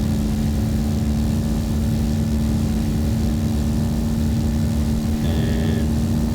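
A Cessna 172SP engine at full throttle in the X-Plane 10 flight simulator, a loud, steady propeller drone with a constant low rumble and a held tone running throughout, with no voice.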